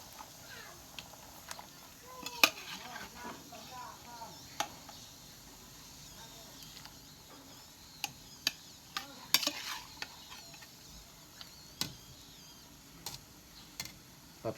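A pot of fish soup simmering and being stirred at a farm, with faint scraping and knocking of a utensil against the pot under soft bubbling and low background noise.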